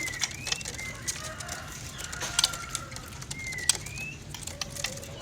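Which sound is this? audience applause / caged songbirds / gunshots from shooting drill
caged songbirds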